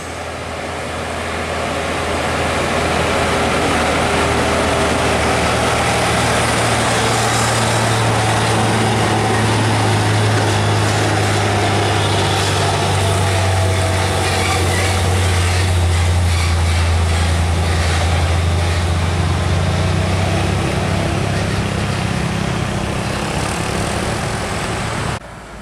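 A heavy trailer truck labors past on a steep winding road, a loud sustained low engine drone with a rising and falling pitch that swells and holds close for the whole pass, with no talk.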